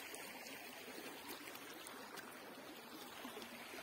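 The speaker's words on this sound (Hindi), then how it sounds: "इस तरह से और यहाँ पे है नदी" A mountain river in Uttarakhand flows steadily, a soft, even wash of rushing water heard from a distance with no voices over it.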